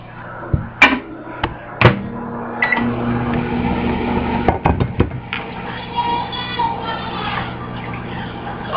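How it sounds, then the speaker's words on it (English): Microwave oven heating a bowl of butter and sugar, a steady hum running throughout, broken by several sharp clicks and thumps early on and midway. "you're just going to want to pop it in the microwave for about 30 seconds."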